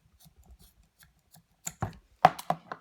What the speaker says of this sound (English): You're going to take a pair of scissors, and you are going to snip your end.